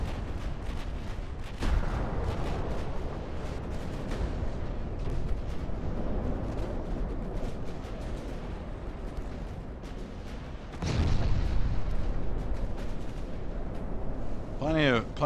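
Warship secondary guns firing shells in the naval battle game Ultimate Admiral: Dreadnoughts, a dense run of booming reports and rumbling blasts, with a heavier burst of fire near the end, a voice occasionally talking over it.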